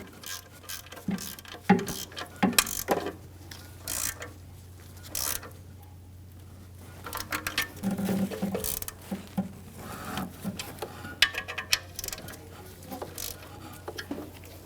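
A 13mm socket ratchet works on exhaust manifold bolts of a 1997-2006 Jeep Wrangler 2.4L four-cylinder, giving quiet irregular clicking bursts and metallic taps with pauses between, close by and without talk.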